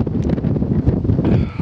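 An icy wind blows across a mountain on Coniston Old Man near Goats Water, buffeting the microphone in a loud, steady roar with gusty swells and no speech.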